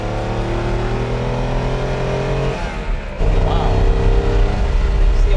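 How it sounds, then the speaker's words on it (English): A Maserati race car engine revving hard at high rpm, a loud, steady harmonic drone that dips briefly, then returns stronger with rougher, deeper power, heard close and continuous. "you can see the race breeding in the engine. It's all in the high revs."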